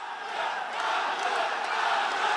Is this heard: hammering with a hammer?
no